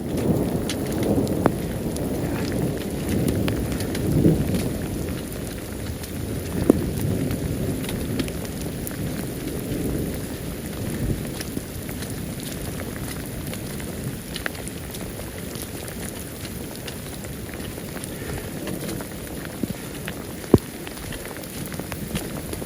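Pouring rain falls on a High Sierra mountain trail as a steady, dense hiss, with occasional sharper drop hits and low rumbling gusts throughout, and no voices.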